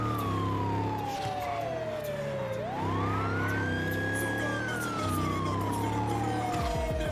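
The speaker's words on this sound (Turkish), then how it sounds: "Oy siren açtı" A video game police car siren wails continuously, its pitch sliding slowly down and then rising again over a steady engine hum.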